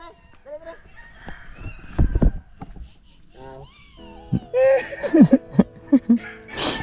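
Chickens on a farm cluck and crow nearby, a rooster's call rising over scattered hen clucks, while people talk and laugh in the background.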